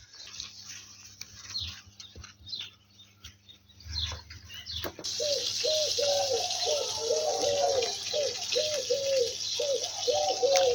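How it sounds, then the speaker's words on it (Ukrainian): Birds calling: after a quieter stretch of scattered chirps, a dove coos over and over in a steady rhythm against a constant outdoor hiss. "Птахи співають."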